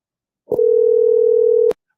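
A telephone dial tone sounds after a caller hangs up on an open phone line. One loud, steady electronic tone holds for about a second and a quarter, then cuts off abruptly, with nothing else heard.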